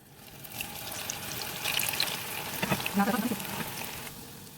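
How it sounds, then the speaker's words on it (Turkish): Falafel sizzles and crackles in hot oil, a steady frying hiss that swells with bursts of popping, close by and with no talking. "Şimdi kızgın yağda kızartacağım."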